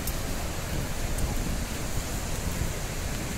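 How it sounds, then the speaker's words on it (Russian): Strong wind roars across a North Sea beach at the Atlantic coast, buffeting the microphone with low rumbling gusts over the steady wash of surf, loud and continuous without pause. "Если звук сейчас будет зашкаливать от ветра, ну, приношу заранее свои извинения"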